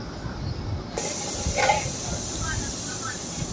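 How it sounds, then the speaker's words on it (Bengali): The lid comes off a pot of chicken pakora curry, releasing a sudden, steady hiss of steam that continues loud and close over a low background rumble. "এবার ঢাকনি খুলে"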